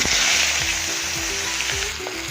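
Onions and a little potato sizzle loudly in oil in a pan, a dense, continuous close frying hiss with a few soft stirring knocks and no voices.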